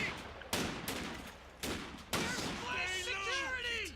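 Machine gun fire from MG teams in Company of Heroes 2 comes in several sharp bursts with echoing tails, heard over a commentator's voice during a 2v2 match.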